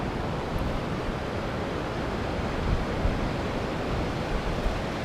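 Ocean waves breaking on a shore, a steady broad rushing wash with gentle surges, constant and fairly loud, some wind mixed in.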